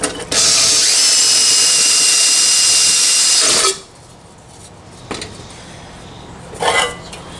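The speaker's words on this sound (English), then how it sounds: "I'm going to try to drill out the top." A power drill boring into the metal top of a Columbia family scale: a loud, high whining grind runs steadily for several seconds, then cuts off, followed by a few brief quieter metallic bursts.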